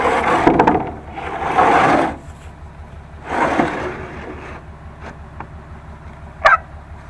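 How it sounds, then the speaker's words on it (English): A metal ash box is jammed into an Empyre 450 outdoor wood boiler, giving close scraping and rubbing metal sounds in a few rough bursts, then a couple of brief knocks and a sharp clank near the end. "Now I'm just going to jam in this ash box, and that'll be it."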